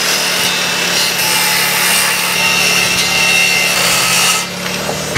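Ends of wooden wall studs are trimmed with a saw for an off-grid shower house build, giving a steady, loud, close cutting roar that holds without a break for several seconds before easing slightly near the end.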